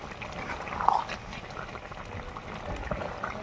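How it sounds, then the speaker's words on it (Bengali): A pot of tilapia fish curry with cauliflower and potato bubbling at a steady boil, a soft continuous burble close by with a brief louder stir or splash early on and no talk. "দেখছেন ফুটছে"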